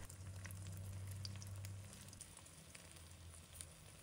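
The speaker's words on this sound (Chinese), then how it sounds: "我小心翼翼地给鸡蛋翻面，继续煎至另一面" Eggs fry in a pan with chopsticks, a faint, steady sizzle heard alone with a low hum beneath it and a few soft crackles.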